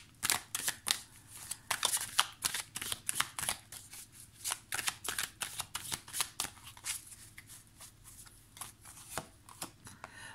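Oracle cards are shuffled and drawn by hand, a steady run of crisp, close riffling flicks and slaps that carries on throughout with no talking.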